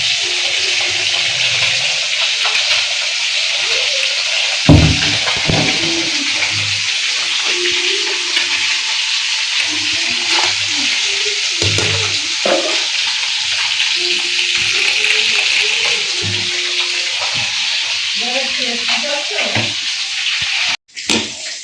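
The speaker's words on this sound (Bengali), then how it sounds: "আর এদিকে মাছ ভাজি হচ্ছে, মাছ ভাজি হচ্ছে" Tilapia frying in a pan in a home kitchen produces a loud, unbroken hissing sizzle that runs throughout, with occasional clatters of utensils and faint muffled voices in the background.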